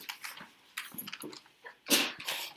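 A single sneeze in a classroom, short and fairly quiet, with a sharp burst near the end among faint scattered rustles.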